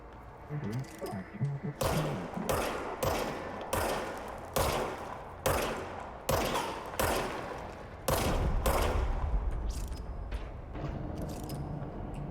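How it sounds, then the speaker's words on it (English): A gun fires in the video game Control, sounding as a series of loud, sharp shots in irregular bursts of one to three, close and punchy, over a low rumbling background. "I have a gun."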